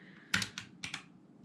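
Typing on a Massdrop ALT mechanical keyboard, a few close, crisp key clacks in two quick clusters over a quiet background.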